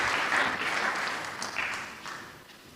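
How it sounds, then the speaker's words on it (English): A lecture audience's applause at a memorial lecture, a soft wash of clapping that is fairly faint and gradually fades out over a few seconds. "let's give another round of applause"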